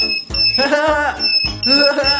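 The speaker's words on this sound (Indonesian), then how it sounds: "Ini adalah alarm." A shop alarm goes off in repeated bursts, a steady high electronic tone pulsing on and off, loud and close, with people talking over it.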